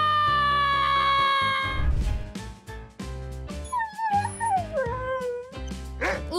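A small dog yips and barks in short bursts over a busy music track in a cartoon, its sharp cries rising and falling near the end.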